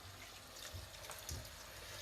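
Hot water from a kettle is poured into a pot of mutton ghee roast in a short, faint splash and trickle lasting about two seconds, with no one speaking.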